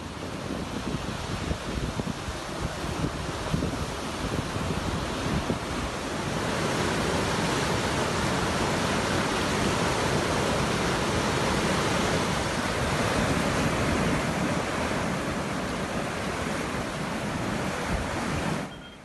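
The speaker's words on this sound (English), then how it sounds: "A number of wilayas of the Sultanate witnessed rains with various intensity, which led some wadis and their tributaries to overflow." Floodwater rushing through overflowing wadis and their tributaries after rain in Zahra governorate, Oman, making a steady, loud, broadband roar that holds unbroken for the whole stretch with no voices.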